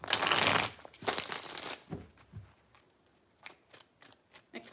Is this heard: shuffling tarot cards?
yes